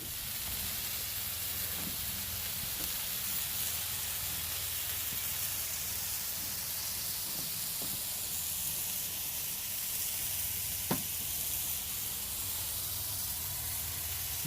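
Burgers sizzling on an outdoor grill on a hot Florida day give a steady, soft hiss of frying with a few faint pops and crackles, fairly quiet and continuous.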